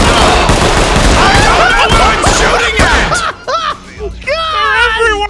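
Video game gunfire crackles in rapid bursts under loud, excited talk from several players during a firefight.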